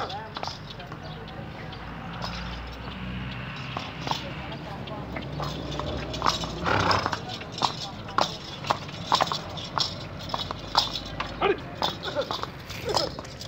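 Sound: horse

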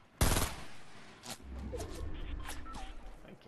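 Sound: gunfire in the video game Fortnite

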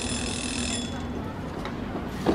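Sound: door buzzer in video game If on a Winter's Night

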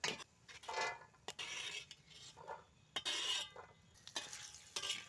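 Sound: whole spices such as cinnamon roasting in a pan

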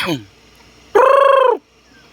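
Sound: labuyo (jungle fowl) calling

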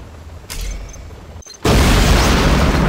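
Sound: nuclear missile explosion in the video game C&C Generals Zero Hour

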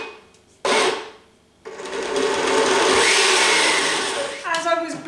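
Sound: blender blending roasted beetroot and butternut squash soup

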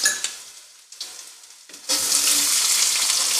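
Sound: garlic paste frying in hot refined oil

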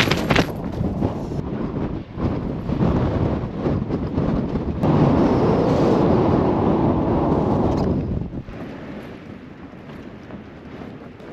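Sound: strong wind gusts against a tent on a mountain

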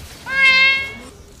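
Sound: cat meowing in League of Legends video game

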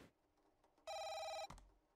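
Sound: telephone ringing in the video game Dispatch

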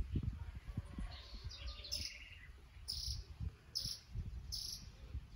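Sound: sibite (bananaquit) birds calling

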